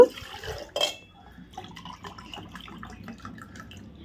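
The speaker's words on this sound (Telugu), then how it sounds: "8 గ్లాసులు నీళ్ళు పోసానండి" Water is poured into a cooking pot as eight glassfuls are measured out for rava vadiyalu batter. A loud splash and gush comes first, and a lighter trickle follows.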